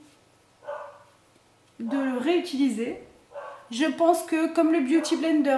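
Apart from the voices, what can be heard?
neighbour's dog barking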